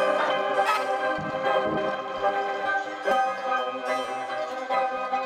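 Metallic delay preset in Ableton producing ringing, bell-like tones with dense, shimmering echoes that keep sustaining and overlapping, with a few sharper hits poking through the wash. Fairly quiet and steady throughout, with no voices.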